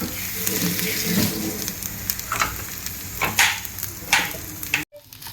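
Mutton kharda sizzles and crackles steadily in a kadai, with louder scraping stirs around the middle and a brief cutoff near the end; no talking over it.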